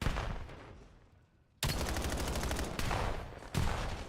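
Gunfire in a PPL esports match between CBE Crusaders and Reflex Rimstar, with a dense rattle of shots starting abruptly after a quiet stretch and a second loud burst near the end; no talking.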